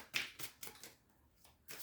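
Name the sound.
shuffling a tarot card deck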